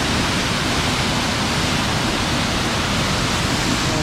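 Durga Dhara waterfall at Amarkantak, a loud, steady broadband rush of falling water that fills the whole clip without a break and with no voices.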